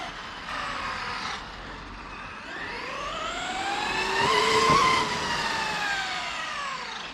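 An RC car driven by a Castle 1000kv motor whines continuously, its high-pitched electric tone sweeping upward and then back down as it speeds up and passes. The sound is moderately loud with no talking.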